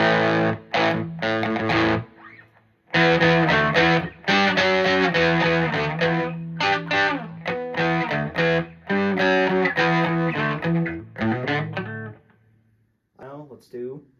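Distorted electric guitar played through a Boss Katana amp on its pushed setting with reverb, loud riffs and sustained chords running for most of the passage with short pauses, ending in a few quieter notes.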